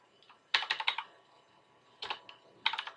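Quick clusters of keystrokes on a computer keyboard, three short bursts of crisp clicking close by in a quiet room, with no talk.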